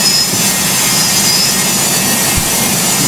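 A loud, steady, dense roar from the Boeing 727 jet engines of an Air Canada airliner during its takeoff run in the flight game Project Flight, with no talk.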